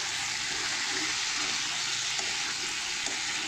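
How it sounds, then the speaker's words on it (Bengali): Taro and potato sizzling and frying in spice masala, a steady dense crackle that fills the whole moment, close and fairly loud with no pauses. "এবার দিয়ে দিচ্ছি ধুয়ে রাখা কচু আর আলুটা। এইটাকেও না সুন্দর করে কষিয়ে নিতে হয় মশলার সঙ্গে।"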